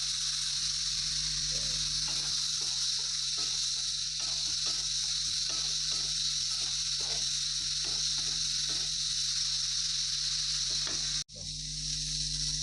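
Prawns rubbed with salt and turmeric sizzle steadily in hot oil in a kadai, a loud continuous close-up frying hiss with a brief break near the end and no talk.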